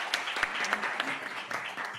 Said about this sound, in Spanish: Pues un aplauso muy fuerte.